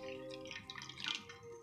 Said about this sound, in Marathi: अशी गळती ठेवून घेतल्याच्या नंतर आपल्याला त्याच्यामध्ये पाणी भरून घ्यायचं